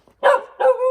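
A dog barks twice at close range, two loud sharp barks separated by a brief pause, with no talking.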